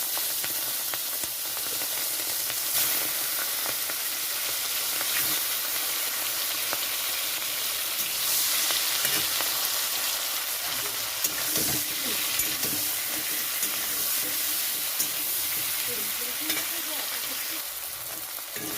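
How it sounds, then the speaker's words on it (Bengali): Giant freshwater prawns fry in hot mustard oil in a wok, giving a steady, close, continuous sizzle that holds for the whole stretch, with occasional soft clicks and scrapes of stirring and no talking. "কড়াইতে সর্ষের তেল দিয়েছি সর্ষের তেলটা গরম হয়ে গেছে তো এখানে আমি মাছগুলো ছেড়ে দিচ্ছি ভাজার জন্য"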